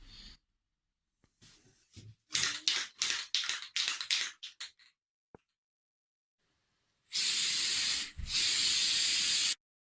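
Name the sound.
spraying glitter paint on a ukulele case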